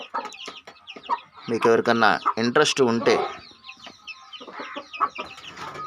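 Chickens and roosters kept for sale cluck and squawk close by in a busy burst, with someone talking over and between the calls.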